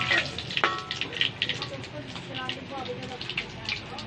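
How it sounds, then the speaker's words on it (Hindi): Garlic frying in hot oil, a steady close sizzle and crackle with occasional stirring, while a person talks over it. "अब तेल गरम हो गया। अब हम इसमें सबसे पहले डालेंगे लहसुन"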